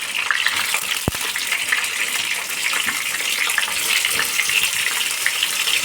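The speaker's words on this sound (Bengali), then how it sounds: "আমি সাদা তেল দিয়ে পটলগুলো একদম সুন্দর করে আঁচ কমিয়ে পটলগুলো লাল করে ভেজে নেব।" Marinated pointed gourd (potol) fries in white oil over low heat, giving a steady close sizzle and crackle with a short sharp clink partway through, and no voices.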